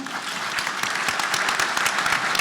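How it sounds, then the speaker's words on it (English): Steady applause from a conference audience, many hands clapping together in a dense, continuous patter for a couple of seconds. "Let's give both Kathy a round of applause for putting together such a great round"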